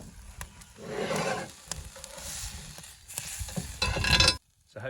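Steak searing in a wood-fired Gozney Dome oven, with a loud rushing sizzle that swells and fades in waves, a few sharp metallic clicks from turning the meat, then sudden quiet at the end.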